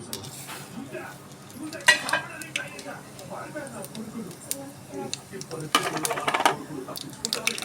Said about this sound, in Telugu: ముందుగా ఆవాలు జీలకర్ర వేసుకుందాం